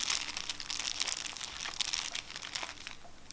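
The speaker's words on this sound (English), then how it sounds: "let's break open that cellophane" Cellophane wrap on a deck of Virtuoso playing cards crinkles and crackles up close in quick, busy bursts for a few seconds, fairly soft with no voices.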